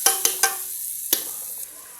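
Two spoonfuls of spice paste fry in a pot for a Basra-style fish broth. A few sharp metal clinks from stirring sit over a soft, steady sizzle, close up, with no voices.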